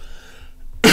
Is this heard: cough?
yes